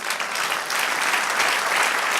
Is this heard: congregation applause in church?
yes